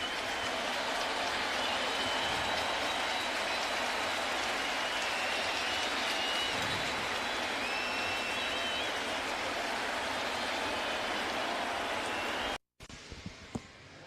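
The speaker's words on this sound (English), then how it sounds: "he's going to get a nice hand from the crowd" A baseball stadium crowd applauds pitcher Tanaka at a Blue Jays–Yankees game, a dense, steady roar of clapping that holds for many seconds before cutting off abruptly into quieter ambience.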